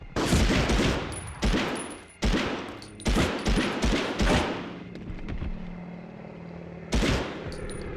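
Submachine gun fire in the PlayStation game Medal of Honor, several loud, close automatic bursts in quick succession, then a quieter stretch and one more burst near the end.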